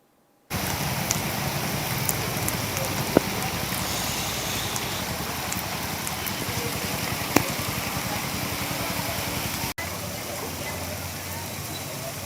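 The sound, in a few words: heavy rain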